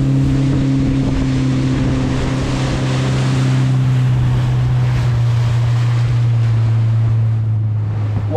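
A motorboat cruises steadily on Lake Superior, its engine a constant low drone mixed with wind buffeting the microphone and water rushing past the hull, with no talking.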